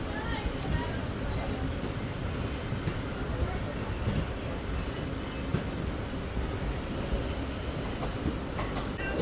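Hydrogen train rolling out of Pandu Pindara junction, a continuous rumble of wheels on rails with faint clicks and a brief thin squeal near the end.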